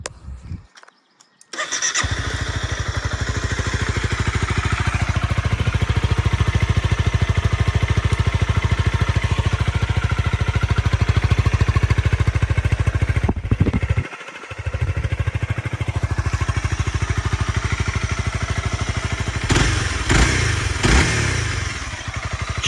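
A 2011 Honda CBR 250R fuel-injected motorcycle engine starts and idles evenly and loud close by for about twenty seconds, with a brief dip midway and a few clicks near the end, no talking.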